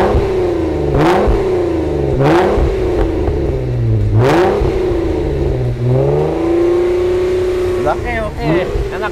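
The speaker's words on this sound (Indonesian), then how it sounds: "knalpot injen dual exhaust dari Amerika ini. Mau dengar suaranya nggak?" A Jeep fitted with an Injen dual exhaust from America revs hard several times in close succession, loud and near, each blip rising and falling, with voices talking over it.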